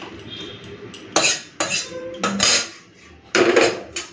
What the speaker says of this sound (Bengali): এখন আমি ছেঁকে নেব।